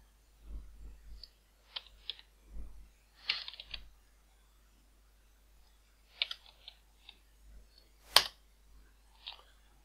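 A computer mouse is right-clicked while working in the Unreal Engine 4 editor. Scattered sharp, close clicks come in small irregular clusters against a quiet background, with no talking.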